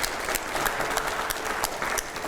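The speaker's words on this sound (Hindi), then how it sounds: "जरा जोरदार तालियां बजाइए प्लीज" Studio audience at a televised political interview breaking into loud, sustained applause, a dense, even wash of clapping with scattered sharper claps.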